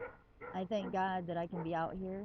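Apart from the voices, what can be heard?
guard dog barking outdoors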